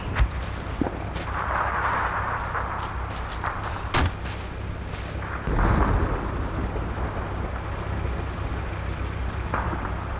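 Fuel barrels are shot and blow up in the Call of Duty 2 game amid battle, with deep booming blasts and sharp gunfire cracks over a constant rumbling din, moderately loud and no speech.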